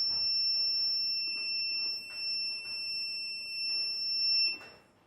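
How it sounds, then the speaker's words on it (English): A Begode electric unicycle emits a steady, high electronic beep during calibration, one long continuous tone with a second pitch above it that holds for about four and a half seconds before cutting off, with faint handling noise underneath. "When you hear the long beep, you can turn off the wheel."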